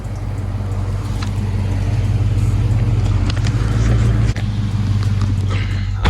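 A 2021 Dodge Charger SRT Scatpack, said to tick while driving, rumbles steadily and close with a deep continuous engine drone and road noise, and one brief dip near the end.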